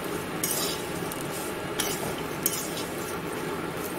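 Flattened rice fries in oil in a pan under a constant close sizzle, with a few light metallic clinks and scrapes from stirring.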